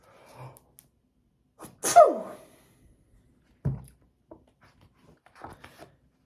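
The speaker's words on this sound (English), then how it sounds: "I sneezed a great sneeze" One loud, sharp sneeze rings out near the start, set apart by near silence and a few small rustles and breaths before and after.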